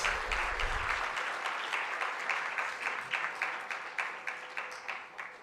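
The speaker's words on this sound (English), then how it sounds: "I think Madam President deserves a louder applause" Sustained crowd applause for Madam President at a dental association congress opening ceremony, many hands clapping steadily, gradually settling into a rhythmic, unified beat toward the end, no voices.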